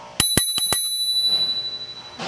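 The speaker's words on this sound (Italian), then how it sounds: "il campanello" Bell on a Cecotec Bongo electric scooter: four quick, bright metallic dings in rapid succession, followed by a shimmering ring that decays over about a second and a half, close and clear.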